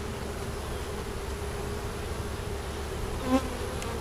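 A honeybee swarm that settled in a barn hums as it is moved into a hive, a steady close drone of many bees with one louder buzz passing near the end.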